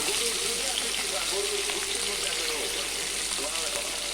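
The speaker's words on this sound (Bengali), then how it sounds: "আমি আজকে নলা মাছ আর ইলিশ মাছ একসাথে রান্না করব তো একসাথে ভেজে নিচ্ছি" Nola and hilsa fish fry together in oil, making a dense, continuous sizzle like steady rain that stays at an even, fairly loud level, with faint voices underneath.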